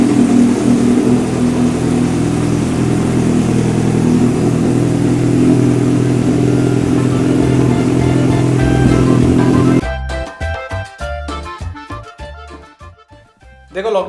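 A motorcycle engine runs loud and steady while riding, a continuous rumbling drone that drops off after about ten seconds into uneven, choppy bursts as the rider shifts from first into second gear.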